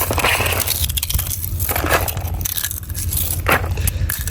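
Dry eggshells being pounded and crushed for fertilizer, producing repeated crunching, crackling impacts up close at an irregular rhythm.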